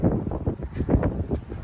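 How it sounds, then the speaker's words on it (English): Gusty Texas wind hitting an outdoor microphone, loud low rumbling buffets pulsing irregularly and close. "sorry about the wind, but it is still windy as crap out here in Texas."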